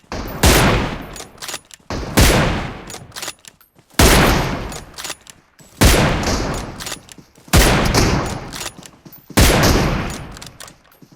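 Repeated bursts of gunfire from a mobile shooter video game: six loud volleys of rapid shots, each lasting over a second and separated by brief pauses, with no talking.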